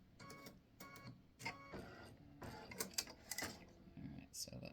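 A home embroidery machine stitches the eyes onto a freestanding-lace bat earring: a brief run of quick, rhythmic needle taps and mechanical whirring, close and moderately loud, with short pauses between bursts.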